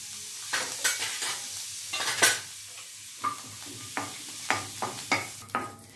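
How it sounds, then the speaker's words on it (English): Halved green chillies dropped into hot oil for a white kurma, sizzling softly while a spoon stirs and clinks against the pan in a series of sharp, irregular taps. "once the oil becomes hot, we'll be adding the green chilli first"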